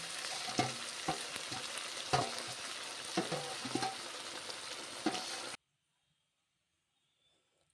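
Chilli chicken frying with soy and other sauces in a pan, a steady close sizzle broken by scraping stirs of the spatula, running several seconds before cutting abruptly to silence.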